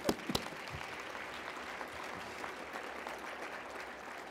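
Audience applause at an awards ceremony acceptance speech, a steady, moderately distant wash of clapping following a couple of sharp claps at the start.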